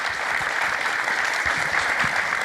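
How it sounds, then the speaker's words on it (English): Steady, dense applause from a seated audience at an economic forecast panel for the Southern Delmarva region, a continuous wash of many hands clapping at moderate distance with no talk over it. "please give our panelists a round of applause"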